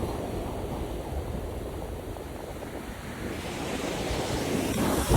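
Waves wash steadily onto Kaup Beach, a continuous roar of forceful surf with gusts of wind across the microphone, swelling slightly louder toward the end.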